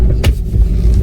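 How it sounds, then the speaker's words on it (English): A car rumbles close by with a heavy, loud low-frequency drone, and a brief hiss passes through partway as it drives past. "Please turn that car."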